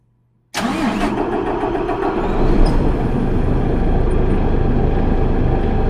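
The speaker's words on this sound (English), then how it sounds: "so I'm going to go ahead and start up the truck." A Paccar MX-13 diesel truck engine cranks and fires up with a sudden loud start, then settles into a steady, close, rumbling idle with a slight rise in revs.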